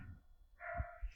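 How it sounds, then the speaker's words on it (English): A dog in a hallway gives a short, faint bark or yip, heard briefly and from a little distance, with no talking. "There's a dog in the hallway. Can you hear the dog?"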